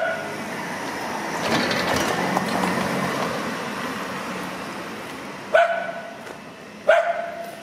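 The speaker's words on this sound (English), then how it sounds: "Roof dogs." Dogs up on a house roof bark two sharp, separate times near the end of a morning street scene in Mazatlán, over a steady background of outdoor traffic and mechanical noise.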